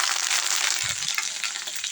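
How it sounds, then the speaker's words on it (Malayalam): Curry leaves frying in hot oil on a low flame, a steady close, dense sizzle that holds evenly throughout with no voices. "ഇനിയിപ്പോൾ നമുക്ക് ഫ്ലെയിം ലോ ആക്കിക്കൊണ്ട് കറിവേപ്പിലയും കൂടെ മൂപ്പിച്ചിടാം"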